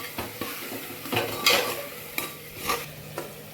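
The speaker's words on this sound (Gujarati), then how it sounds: "સરસ રીતે હલાવી લેશું," Brinjal and potato curry with spices being stirred in a pressure cooker, a spoon scraping and clanking against metal in several uneven strokes over a faint sizzle.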